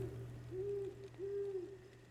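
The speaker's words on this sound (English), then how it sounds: "There's a loud owl." A loud owl hoots three times in a slow, even rhythm, each call a sustained, slightly rising tone over a steady low hum.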